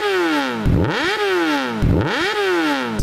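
A motorcycle engine is revved hard twice, climbing to a high whine, falling back, then climbing again in a loud close rising-and-falling pattern with no speech over it.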